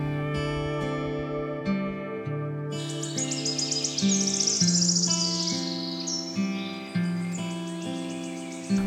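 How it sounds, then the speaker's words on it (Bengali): Several birds chirp and sing in a hill-village morning at Sittong, a dense layered chorus of repeated tweets and whistles with a faint insect-like drone beneath, fairly close and steady, with no talking. "পরদিন সকালে ঘুমটা ভাঙলো পাখিদের কিচির মিচির শব্দে"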